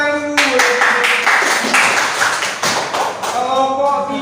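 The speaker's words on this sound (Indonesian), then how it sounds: "Tepuk tangan dulu." Students in a classroom clap together after their group grades are announced, a short burst of fairly close, rhythmic hand claps, with voices heard briefly before and after.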